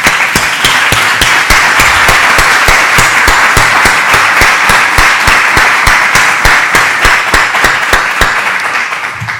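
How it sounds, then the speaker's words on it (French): Loud, close audience applause for conference organizers and volunteers, sustained crisp clapping from a large room that fills the whole stretch and tapers slightly at the end, with no talking over it. "Je vais vous inviter à applaudir les organisateurs, bénévoles, le comité qui a rendu ça possible."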